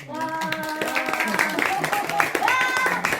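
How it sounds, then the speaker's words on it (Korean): An audience applauds an award recipient being honoured at a citizen commendation ceremony in Gwangmyeong, producing steady clapping throughout, mixed with tonal, music-like sounds in the room. "박수 한번 어, 힘차게 쳐주길 바랍니다"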